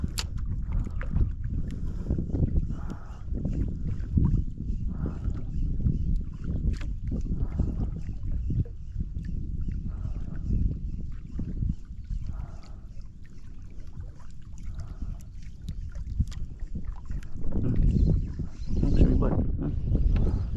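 A small fishing boat moves across the water under paddles, with soft splashes and low rumbling water noise in gusty wind while people talk throughout.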